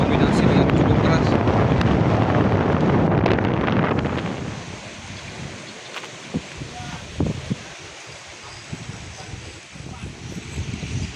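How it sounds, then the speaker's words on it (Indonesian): Strong wind buffets a microphone outdoors near a coastal building, a loud roaring gust for several seconds that then eases into quieter rushing with occasional thumps. "ini suaranya angin sudah mulai"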